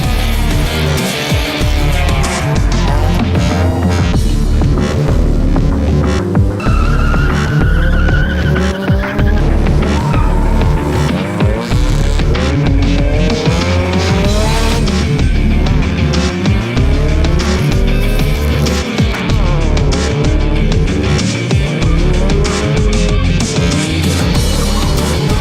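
Autocross race cars at a round of the 2019 Philippine Autocross Championship Series, engines revving and tires squealing and skidding continuously and loudly throughout, with rising and falling engine pitch as cars push through the course.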